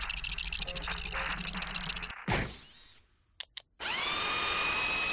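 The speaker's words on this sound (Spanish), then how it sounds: "El taladro no para de romperse." Mining drill in the Ratchet & Clank remaster on planet Hoven whirs and rattles loudly, cuts off abruptly, then comes back after a gap with a few clicks as a steady high whine.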